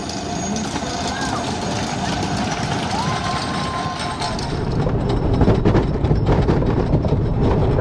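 A roller coaster train at Lake Winnepesaukah amusement park rumbles along its track, a rising clattering roar that grows louder toward the end.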